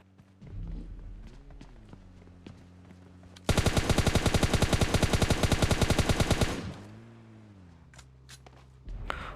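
Rapid automatic gunfire in PUBG Mobile Lite bursts out as a dense, loud, steady stream for about three seconds, framed by quieter game ambience, footsteps and a rising-falling hum.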